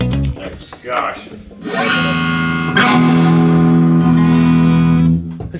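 Electric guitar through a loud Marshall Super amp, with talk at the start, then strummed chords ringing out and sustaining loudly for several seconds.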